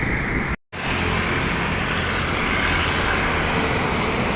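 A Sempati Star intercity bus on the Jakarta–Medan route rolls past on the road, a loud, steady broadband roar of engine and tire noise that swells slightly as it passes close by, with a brief dropout near the start.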